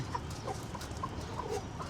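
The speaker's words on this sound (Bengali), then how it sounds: "এই তিনটাই এখানে মুরগি" Chickens clucking softly and continuously at close range, a short stretch of low murmuring calls with no talking.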